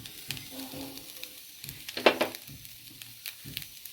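Grated cassava and jaggery sizzle softly in hot oil with occasional stirring scrapes and one sharper crackle, faint and close, with no talking.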